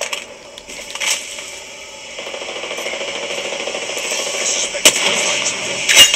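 Hemlock rifle shots in a smoky video-game firefight, a few sharp reports with one distinct crack near the end over a steady mechanical background.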